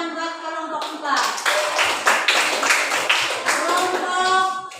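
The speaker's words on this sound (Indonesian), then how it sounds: "tepuk tangan buat kelompok 4" A classroom full of students applauds group 4 with steady, dense hand clapping that runs for several seconds, close and lively, while children's voices chatter underneath.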